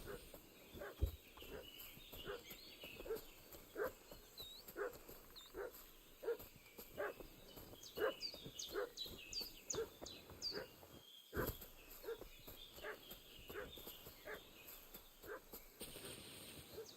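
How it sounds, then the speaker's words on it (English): A dog barks repeatedly in the video game Kingdom Come: Deliverance 2, in a steady rhythm at moderate distance, with chirping birds and ambient outdoor noise underneath. "What's that dog making such a fuss about?"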